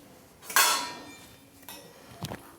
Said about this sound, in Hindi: हम एक कढ़ाई ले लेंगे